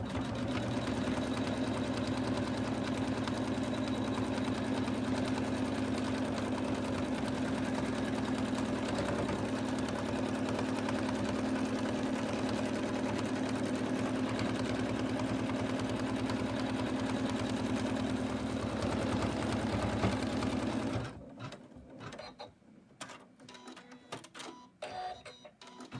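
An embroidery machine stitches an in-the-hoop snowman stocking with a steady, loud mechanical whir for about twenty seconds. It then stops, leaving scattered faint clicks and handling noises.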